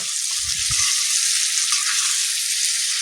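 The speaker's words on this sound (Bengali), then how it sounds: "আঁচটাকে মিডিয়ামে রেখে ম্যারিনেট করা মাছটাকে এখন আমি দিয়ে দেবো। এখন সমস্ত কিছুর সাথে মাছটাকে ভালো মতো করে মিশিয়ে নেব।" Marinated rui fish frying over medium heat in a pan, a steady close sizzle throughout with a few low knocks and stirring scrapes at the start.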